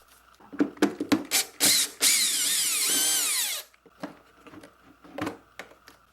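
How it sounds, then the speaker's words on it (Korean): A screw is backed out from under the seat of a kids' battery-powered ride-on car with a power driver, giving a few short taps followed by a close, steady whirring run of about two seconds, then scattered handling clicks. "나사 하나가 있는데 풀어주겠습니다."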